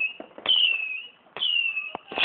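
Bonfire night fireworks whistle up in two launches outdoors, each a sharp burst into a high sustained whistle that fades, with pops and crackle between, fairly close.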